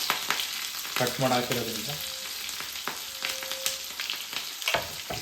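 Green chillies and cumin sputter and crackle in hot oil on lowered heat, a steady close sizzle of frying with sharp pops and stirring clatter, while a voice speaks briefly over it.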